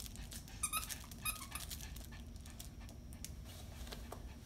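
A frightened young puppy in an unfamiliar place gives a few short, high squeaky whimpers early on, then quieter faint cries over a steady low background hum.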